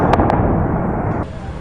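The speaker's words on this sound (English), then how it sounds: "Sirens and explosions in Israel." Two sharp blasts go off close together in Israel, followed by a heavy, continuous rumble that lingers and then drops off, like distant explosions rolling on.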